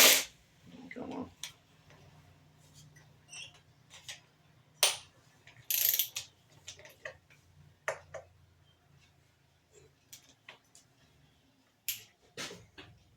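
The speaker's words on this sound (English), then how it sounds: "And we're going to ratchet these out." Ratchet clicks and mechanical clatter from loosening bolts on a 20 hp Vanguard V-twin race mower, coming in short bursts of ratcheting and sharp metallic knocks separated by quiet pauses, close and fairly loud.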